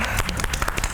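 Studio audience applauding during a Georgian television game show, a dense, steady patter of many hands clapping throughout the short burst, fairly loud and with no voices over it.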